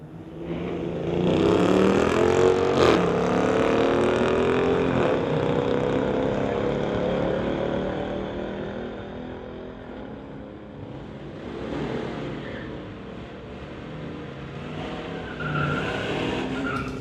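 Drag racing cars, a Ford and a Dodge Durango, roar down the strip in a loud surge of engine noise with tire squeal. The roar peaks early, then fades, and another engine swells near the end.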